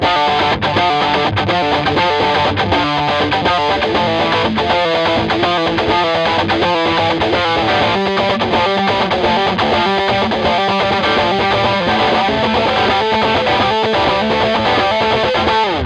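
Heavily distorted electric guitar through effects pedals plays a steady, driving riff with constant picking, thick and loud throughout with no voices.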